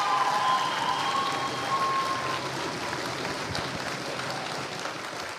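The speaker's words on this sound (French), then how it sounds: "je voudrais que toutes et tous, on vous applaudisse très, voilà, chaleureusement" An audience at a master's degree graduation ceremony claps warmly for the graduates, a steady blanket of applause that holds for several seconds, with a faint tone sounding early on.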